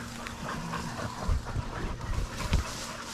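Hunting dogs panting and whimpering after catching a feral wild boar in rainforest, close and fairly quiet over outdoor background noise, with brief thumps and rustling.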